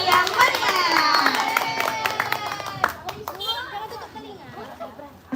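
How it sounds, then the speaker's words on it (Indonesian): Children's school Maulid Nabi celebration in Aceh: an audience claps after a performance by kindergarten and primary pupils, the clapping fading under steady children's chatter and voices, with a few scattered claps near the end. "Beri tepuk tangan lagi dong, sekali lagi yang meriah."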